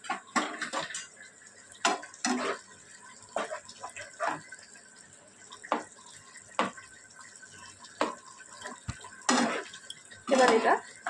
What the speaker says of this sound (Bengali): এটা দিয়ে এবার খুব ভালো করে আমি কষিয়ে নেব